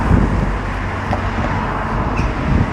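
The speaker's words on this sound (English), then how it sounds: "Burford High Street, you can hear the cars" Cars travel along Burford High Street on a quiet Easter Sunday morning, a steady wash of road and traffic noise heard at a moderate distance with no clear single pass.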